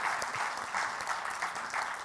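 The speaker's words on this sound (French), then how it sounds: "Donc on peut donner aussi un grand applaudissement pour votre générosité." Church congregation applauds in a brief, fairly faint burst of steady clapping, with no talk over it.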